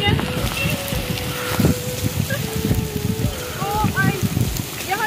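Heavy rain pours steadily outdoors in an open area, a dense hiss of drops striking surfaces with some wind, while a voice speaks briefly over it.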